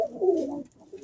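A white side pigeon cock gives one short, soft, close coo.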